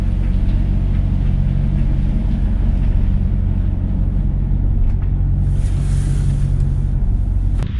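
A car drives slowly across bumpy grass, its engine giving a steady, close low rumble with jostling undertones throughout and no voices.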